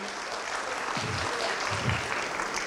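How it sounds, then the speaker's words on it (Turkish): Conference audience at a WordPress event applauding a team member, continuous clapping throughout with a couple of brief low sounds beneath it. "Sevgi Ufaker, bir alkış rica edeceğim."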